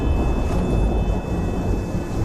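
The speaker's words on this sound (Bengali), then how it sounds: "সারা আকাশ কালো করে শুরু হলো ঝড় আর বৃষ্টি" A dark thunderstorm with rain roars loud and continuous, a dense rumbling wash of thunder and downpour that fills the whole stretch without a break.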